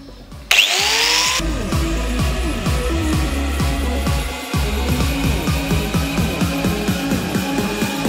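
A LifeStraw water filter is cut open with a power tool: a sharp burst as the blade bites, then a steady grinding drone with rapid chattering cuts, briefly stopping and restarting, loud and close.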